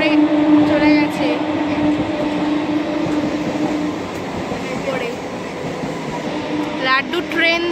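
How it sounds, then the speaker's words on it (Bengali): A train passing nearby in Sriniketan: a loud continuous rumble and rolling clatter of rail cars with some squealing at the end, while people talk over it. "লাড্ডু ট্রেন দেখছে, এই যে ট্রেন যাচ্ছে"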